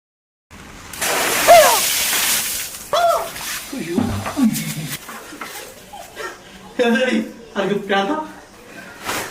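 Water bursts and splashes from a cheap local pipe fitted in a bathroom, a short broadband gush near the start, followed by people talking loudly over it.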